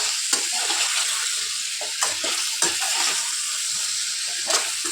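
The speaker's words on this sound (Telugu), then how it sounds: "ఇది బాగా సాఫ్ట్గా అయ్యేంత వరకు ఫ్రై చేసుకోవాలి" Brinjal (eggplant) pieces frying in oil in a pan, a steady broadband sizzle with occasional stirring clicks and scrapes, continuous and fairly close, no talking.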